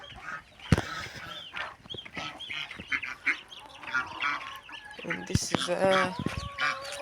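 Geese honk and chatter on a farm alongside clucking hens, with irregular nearby calls growing busier toward the end, while someone speaks briefly among them.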